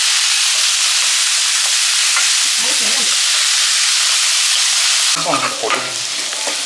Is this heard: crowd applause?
no